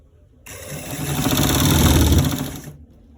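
A sewing machine runs one continuous burst of stitching along a fabric collar roll, a buzzing motor hum that starts abruptly, swells and then stops, loud and close with quiet before and after.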